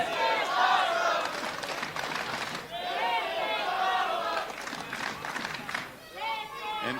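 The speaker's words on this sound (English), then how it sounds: "The crowd coming alive." A crowd at a Future Stars of Wrestling match cheers and shouts continuously, a dense, sustained roar with individual voices rising above it.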